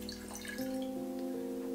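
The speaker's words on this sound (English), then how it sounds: "So let's open it, and we pour 50 milliliters." Gin, about 50 milliliters, poured from a freshly opened bottle into a glass for a gin and tonic, a quiet liquid stream trickling steadily for under two seconds with no talk.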